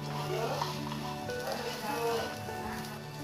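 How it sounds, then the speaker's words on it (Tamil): Peanuts and coconut frying in a pan while being stirred, a soft steady sizzle with scraping turns of the spoon, close but fairly quiet, heard under a voice talking. "தேங்காய் போட்டு நீங்கள் இதை நல்லா கொஞ்சம் நேரம் திருப்பி விடுங்க."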